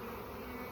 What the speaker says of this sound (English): These bees are amazing, amazing, amazing.